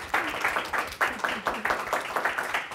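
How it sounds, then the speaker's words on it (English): Audience applause at the close of a tech conference panel, steady dense clapping from a crowd, loud and close, filling the whole short stretch without a pause. "Give a round of applause for our panelists."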